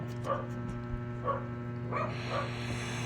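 Several dogs bark in the background, with a few short, distant barks spaced a second or so apart under a steady electrical hum.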